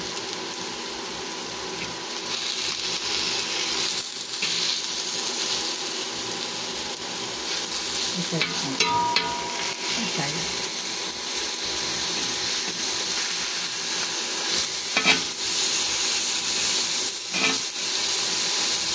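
Squid grilling on a nonstick grill pan gives off a continuous loud sizzle and hiss, with occasional sharper crackles and a few utensil clicks against the pan.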